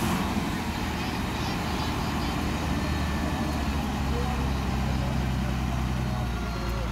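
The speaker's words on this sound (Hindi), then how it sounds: "तो चलिए बाहर आ गई है गाड़ी अब आराम से।" A vehicle grinds its way out of a muddy swamp on a rural road, its engine droning low and steady at close range throughout, with broadband rumble and mud noise and no clear speech.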